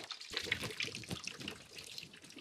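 Water runs steadily from a household tap in a home, a continuous close splashing stream with no one speaking over it.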